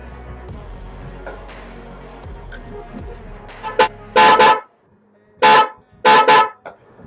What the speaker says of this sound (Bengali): এই হর্নটাও আমি আপনাদেরকে সাউন্ড চেক করে শোনাবো।